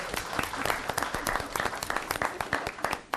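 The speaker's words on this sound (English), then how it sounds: "You could clap right there." An audience at a public ceremony honoring military veterans breaks into sustained applause, dense overlapping clapping from a sizable crowd that continues steadily throughout.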